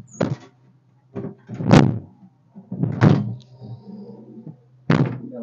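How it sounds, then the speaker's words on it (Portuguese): Several light knocks and thuds of a small shower cabin door in a camper being moved and shut, with short pauses between the bumps. "A portinha fecha."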